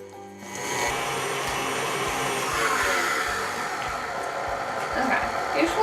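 An electric stand mixer beats butter at low speed, giving a steady, close motor whir with a soft churning texture that runs continuously from start to finish, with no talking over it.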